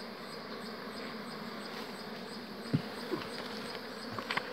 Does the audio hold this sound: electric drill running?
no